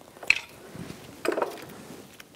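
A torque wrench tightens the bolts on a front CV axle of a 2010-2014 Volkswagen GTI, producing two brief, close metallic clicks about a second apart over quiet background.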